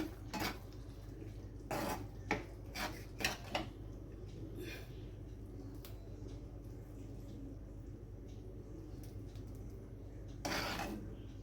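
A cooking pot lifted off a gas stove, with several sharp metallic clanks and clatters early on, then quieter rattling and a last clink near the end, close by over a low hum.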